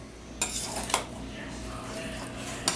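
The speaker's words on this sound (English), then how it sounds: "Here we begin the mixing." Spoon or utensil stirring a bean salad with refried beans and olive oil in a bowl, giving soft continuous scraping and sloshing with a few sharp clinks against the bowl near the start and end.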